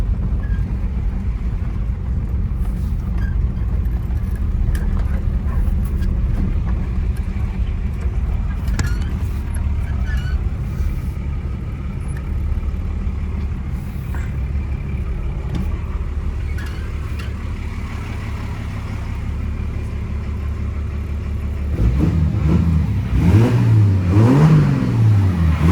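A 1981 Datsun MQ Patrol with an SD33 diesel engine runs steadily with a loud, rough low rumble throughout, then revs up in rising and falling surges near the end.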